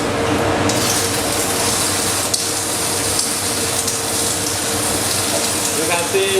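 An LG-40Y plasma cutter with a built-in compressor cutting metal at 100 amperes, a loud steady hissing roar with crackling throughout, continuous and close.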